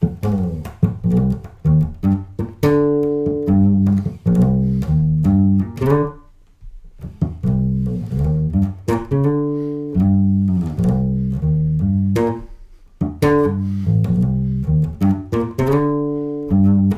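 A bass guitar plays a repeating bass line with added articulation and dynamics, mixing short clipped notes and longer sustained ones at varying loudness. The sound is close and prominent, with brief pauses and no talking.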